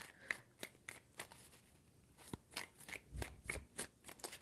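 Tarot cards being shuffled by hand in a series of quiet, crisp riffling and slapping bursts, several shuffles in a row with brief pauses between, close and soft with no talking.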